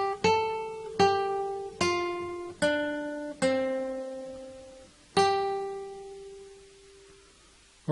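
Plucked notes on a guitar's first string play the rest of a Jingle Bells verse line, six distinct single tones in a steady rhythm, each ringing clearly, the last held and fading before another note starts.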